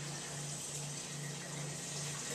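Water pours from a tap into a soup pot for pureed broccoli soup, a steady, even rushing hiss with a faint hum beneath, quiet and uninterrupted by talk.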